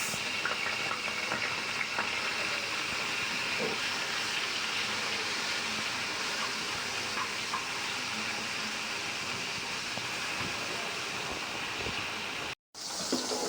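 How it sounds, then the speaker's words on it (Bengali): Fish frying lightly in a pan, a continuous even sizzle with faint crackles throughout, heard up close and alone without any talk. "এই যে মাছগুলো এখন ভেজে নিচ্ছি"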